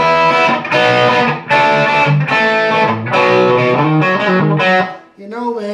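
Distorted electric guitars play the harmonized lead lines from a song, a fast series of sustained, overdriven notes that briefly dips near the end before the melody resumes.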